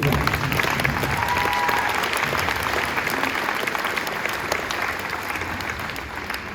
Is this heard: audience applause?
yes